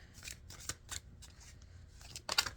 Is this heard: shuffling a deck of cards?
yes